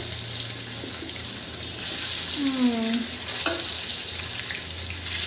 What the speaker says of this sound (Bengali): একটু সাবধানে তেলের মধ্যে মাছটি দিতে হবে যাতে হাতে যায় তেলের ছিটা না লাগে